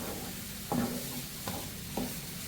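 Grated carrot frying in ghee for carrot halwa, a soft continuous sizzle with three faint scraping strokes as it is stirred, quiet and close, no talking.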